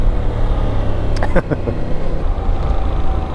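A Yamaha Tracer 7 motorcycle pulls hard out of a hairpin turn on a Gran Canaria road, its engine a steady close drone beneath wind rush, with a voice talking over it.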